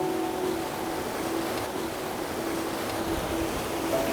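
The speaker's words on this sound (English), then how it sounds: "It's a little bit loud down here with the volume of water going past." Loud, steady rush of a large volume of water flowing past at the foot of a glacier descent, a constant broadband roar close by with no pauses, no talking over it.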